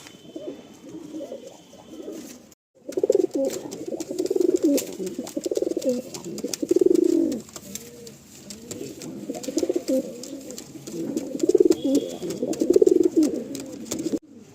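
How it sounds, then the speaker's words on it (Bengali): Pigeons kept for sale coo in repeated soft, throaty bursts close by, several overlapping calls rising and falling over a quiet background. "যতগুলো পায়রা দেখানো হচ্ছে সবকটা পায়রাই ফার্স্ট সেলে থাকবে"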